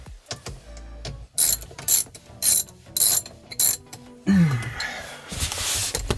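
A bolt on a yoke-style steering wheel being tightened with a ratchet wrench, giving several short bursts of clicking with pauses between them, then a louder, more continuous mechanical rattle near the end.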